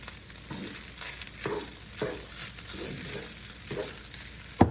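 Fried rice with meat sizzling in a pan, a soft steady fry broken by repeated scraping stir strokes about every half second, ending in a sharper clatter.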